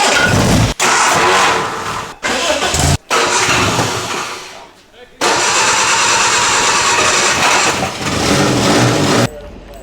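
A car engine at a small Ford car show cranks and catches several times, cutting out in between, then settles into a loud, steady idle, with people talking nearby.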